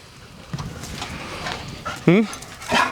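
Old golden retrievers whimper and whine near the mic, with a rising yelp-like whine and soft breathy sounds between, while someone talks over them.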